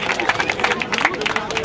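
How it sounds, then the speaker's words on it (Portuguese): Crowd at a Brazilian rap battle claps and cheers after a round, a dense steady patter of hands with bright shouts mixed in, loud and continuous. "Salve de palmas pra essa batalha, família."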